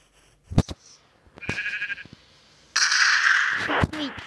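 Sheep in the video game Minecraft bleat several times in short, separate cries amid sharp thuds and brief game sound effects, with no talking.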